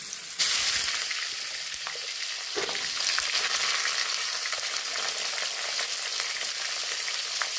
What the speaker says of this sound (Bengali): এক চামচ নিয়ে পটলগুলো একটু লাল লাল করে ভেজে নিই